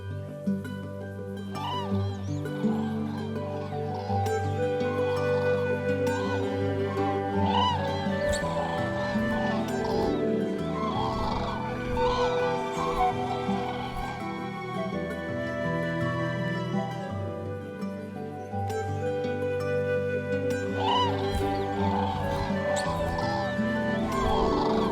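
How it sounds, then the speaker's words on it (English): Common (Eurasian) cranes call in a wintering holm oak grove in Iberia, loud overlapping trumpeting and honking cries repeating in bursts, some near and some farther off. "Common or Eurasian cranes spend the winter among the Iberian oak holms, feeding on acorns and tender shoots."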